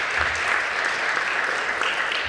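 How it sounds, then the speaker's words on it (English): Audience applause fills the room at the San Antonio Sports Hall of Fame 2025 induction event, a steady, dense wash of many hands clapping close and loud, carrying on without pause. "How about another round of applause for such an incredible class?"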